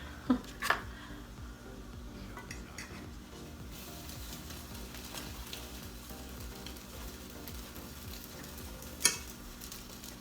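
French toast frying in a pan with butter, a soft steady sizzle at low volume with a few sharp clinks of a utensil against the pan.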